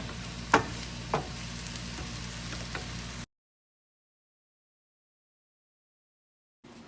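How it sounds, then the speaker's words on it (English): Mushrooms cook in a pan for a vegan mushroom Wellington, a steady low sizzle with a few stirring clacks of a utensil, then the sound cuts to silence. "We're just going to cook these until most of the liquid has cooked out of the pan."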